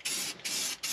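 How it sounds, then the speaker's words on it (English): A spray paint can spraying in an open garage: three steady hissing bursts, close and fairly quiet, separated by brief pauses, with no voices. "Just spray paint."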